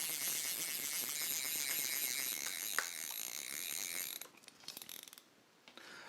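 A fly fishing reel's ratchet gives a rapid, steady buzzing click as fly line is wound onto the spool. Close and continuous, it stops after about four seconds, followed by a few scattered clicks.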